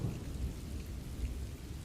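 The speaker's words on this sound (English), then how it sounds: "the storm had followed him for miles, but the moment he stepped inside the library, the thunder seemed to grow softer" A thunderstorm with steady heavy rain and a low rumble of thunder, a dense continuous wash of sound with no voices.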